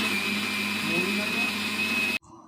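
An electric grinder whirs loud and steady as it grinds rice into a paste for pitha, then cuts off abruptly near the end.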